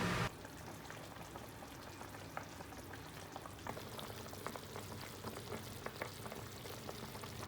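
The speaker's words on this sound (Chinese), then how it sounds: "小火煮个20分钟左右" Two dozen spicy duck heads, cooked with handfuls of Sichuan peppercorns and chili, simmer over low heat in a pot covered with a large basin: a steady soft bubbling hiss with scattered small pops and crackles, close by.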